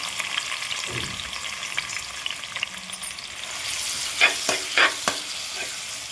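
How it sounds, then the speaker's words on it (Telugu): Thinly sliced onions and green chilies fry in hot oil with a steady, close sizzle, broken by a few louder stirring scrapes toward the end while the onions cook for a chicken curry. "ఆయిల్ వేడైన తర్వాత సన్నగా కట్ చేసుకుని ఉల్లిపాయలు పచ్చిమిర్చి వేసుకోవాలండి"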